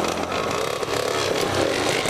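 Yamaha Banshee quad engine revving hard and raspy during a wheelie attempt, a loud close two-stroke roar that rises and holds, heard alone without talk.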